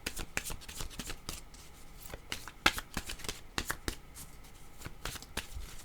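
Oracle cards shuffled and tapped close by, with irregular crisp slaps and flicks scattered across the moment and no talking over them.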